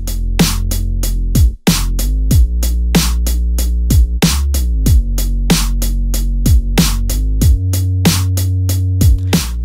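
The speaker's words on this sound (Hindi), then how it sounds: "अब ऐड करते हैं बेस लाइन।" An old-school programmed drum beat in FL Studio, from a Punjabi track, with punchy kicks and snares driving a steady rhythm over a deep, sustained bass line that shifts pitch.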